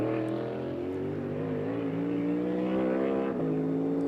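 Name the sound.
NASCAR Cup race car engine through corner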